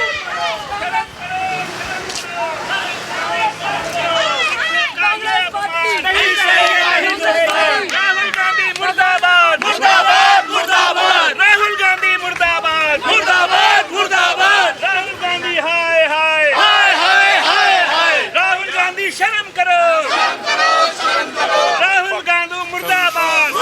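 Sikh protesters gather outside Rahul Gandhi's home and chant slogans against him, a loud, dense crowd calling out in rhythmic unison that carries on steadily throughout, with voices layered thickly together.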